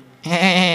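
During a church worship service, a voice imitates a goat's bleat with a single short, loud, wavering nasal call close to the microphone.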